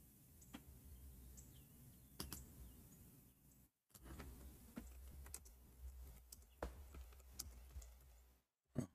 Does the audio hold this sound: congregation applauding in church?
no